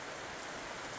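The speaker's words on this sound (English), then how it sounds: "got a tropical downpour" Tropical monsoon downpour in Ramechhap, Nepal, a dense, steady hiss of heavy rain drumming on surfaces with no breaks and no voices.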